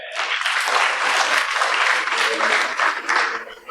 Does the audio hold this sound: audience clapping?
yes